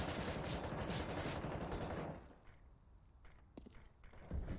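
An MP9 submachine gun fires during a Counter-Strike duel: about two seconds of rapid, loud, crackling automatic fire, then a quieter stretch with a few sharp isolated clicks and shots.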